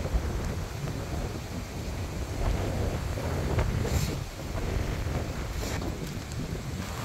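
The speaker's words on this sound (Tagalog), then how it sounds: "Ang lakas ng hangin." Strong wind gusting outdoors at a house site in the Philippines, a steady broadband roar that buffets the microphone, swelling around the middle and continuing without letup.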